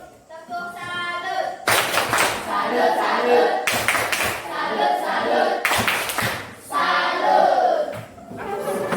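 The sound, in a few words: students applauding a classmate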